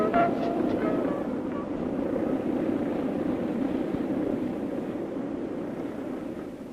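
An SRN4 hovercraft driven by Proteus engines turning 19-foot propellers gives off a steady, broad roar, loud and constant throughout, like heavy wind and engine drone blended together.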